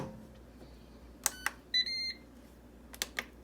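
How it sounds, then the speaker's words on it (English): An air fryer being set to cook cauliflower, giving a few short electronic beeps and one longer tone, quiet and alone in a kitchen. "Air fry 400 degrees for 7 minutes."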